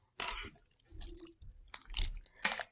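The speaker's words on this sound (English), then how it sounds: "basically I'm pouring the rest of the tomato in there" Canned tomato is poured into a pot of beef soup in a few short wet splashes and plops, close and fairly quiet, separated by brief silences.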